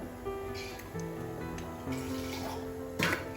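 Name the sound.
water rinsing the mixer jar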